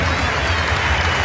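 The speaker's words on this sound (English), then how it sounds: "he gets a well-deserved round of applause" Arena crowd applauding a player at a 2017 college basketball game, Pittsburgh Panthers versus North Carolina Tar Heels, a dense steady wash of clapping and crowd noise throughout, with commentary voices underneath.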